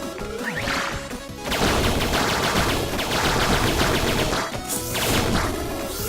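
Rapid triple-shot weapon fire hits a large boss in the roguelike game 20XX, a dense, loud barrage of repeated blasts and impacts running almost continuously with a brief lull partway through.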